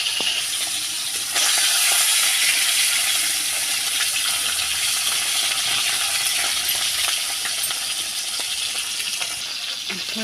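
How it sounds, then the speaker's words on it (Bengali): Hilsa fish head frying in hot oil, a steady loud sizzle and crackle lasting throughout with occasional faint clinks of a utensil, no voices. "ইলিশ মাছের মাথাটা একটু ভাজা ভাজা হয়ে গেলে"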